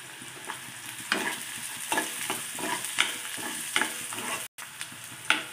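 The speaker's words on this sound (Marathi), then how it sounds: "आता मी हा कांदा व्यवस्थित असा लाल होईपर्यंत फ्राय करून घेते" Onion with curry leaves, garlic and asafoetida fries in a pan, a continuous close sizzle punctuated by regular scraping strokes of a spatula about once a second, with one sudden brief dropout.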